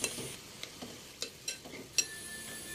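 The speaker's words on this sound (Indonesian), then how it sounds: "Kemudian lanjut diaduk terus sampai semuanya mencair." Butter melting in a pan is stirred steadily, with soft scraping strokes and light spoon taps against the pan over a faint sizzling hiss, close and fairly quiet.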